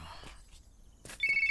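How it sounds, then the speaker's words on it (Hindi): A mobile phone ringtone chirps in at the end as a short, bright electronic trill, after quiet rustling and faint movement sounds. "कहीं तो सुना हुआ है ये रिंगटोन मैंने।"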